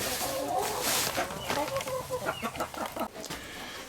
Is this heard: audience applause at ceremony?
no